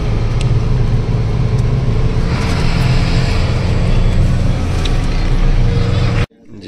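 Car driving on a road near Jabalpur with hot tyres after a twisting stretch, a steady loud low rumble of engine and road noise throughout, cutting off abruptly near the end.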